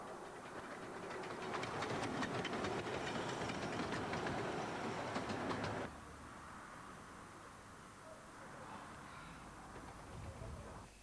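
A steam train rumbles and clatters steadily for several seconds approaching New Romney station, then the noise drops abruptly to a quieter, distant rolling hiss.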